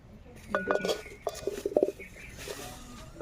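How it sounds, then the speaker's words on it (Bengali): A lid is set onto a pan of cooking onions with a few close metallic clanks and clinks, clustered over a couple of seconds. "এবার আমি একটু ঢাকা দেবো ঢাকাটা দেব পেঁয়াজটা সিদ্ধ হওয়ার জন্য"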